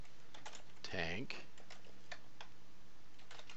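Computer keyboard typing comes as a string of light, irregular clicks, close and fairly quiet, with a brief spoken word near the start.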